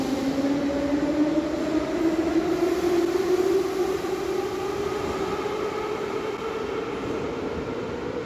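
A Tbilisi Metro train with thyristor voltage regulators runs steadily, its motor whine gliding slowly in pitch like a sustained tone over continuous rolling rumble, loud and close with no voices.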